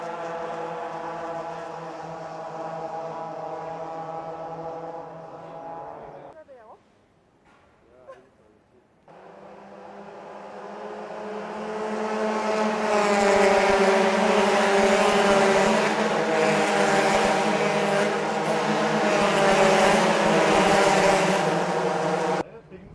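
Race cars at a Toyota Gazoo Racing event, loud sustained engine roar from passing cars with a brief lull before the noise swells back in and holds steady.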